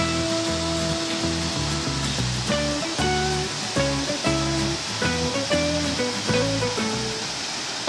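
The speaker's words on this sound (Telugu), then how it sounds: "రంప రెండో వాటర్ఫాల్ దగ్గరికి వచ్చాను." Rampa's second waterfall in the Maredumilli forest area gives a continuous rushing roar of falling water, heard steadily beneath louder background music.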